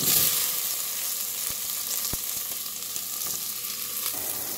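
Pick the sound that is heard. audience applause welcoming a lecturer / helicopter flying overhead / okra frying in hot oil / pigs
okra frying in hot oil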